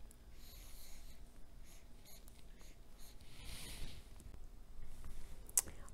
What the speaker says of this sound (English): then use a marker, circle the 5